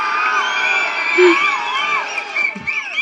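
Crowd at an outdoor political campaign welcome cheering, whooping and shouting in overlapping high voices, with a loud, lively, continuous din and scattered yells.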